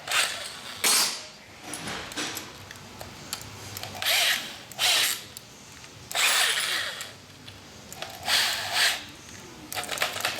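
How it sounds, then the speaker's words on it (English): A power drill bores a pilot hole for fitting a Woodcraft toe guard on a sportbike. It runs in about seven close, loud bursts of a few seconds each, with quiet pauses between them. "Let's go ahead and drill the pilot."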